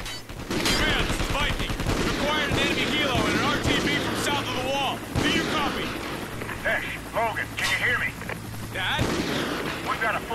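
Remote sniper gunfire in the Call of Duty: Ghosts campaign, several sharp, widely spaced shots over continuous battle noise and a steady mechanical drone, with voices talking throughout.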